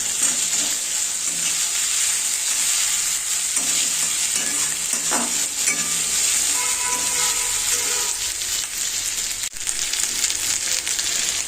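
Two tomatoes hit hot oil in a pan for Bata fish curry, giving a loud, continuous close-up sizzle and frying hiss with faint stirring scrapes and no talking.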